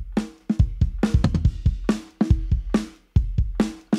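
Kick and snare drums in a shoegaze mix, with a 20:1 parallel compressor, play a busier, steady beat, sounding dense and punchy with thick sustained body under each hit.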